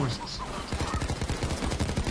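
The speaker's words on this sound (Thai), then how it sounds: "ยิงปืนได้แม่นเลยกู" Rapid automatic gunfire from the video game Payday 2, loud, close bursts of repeated shots after a brief quieter start, with a voice talking over it.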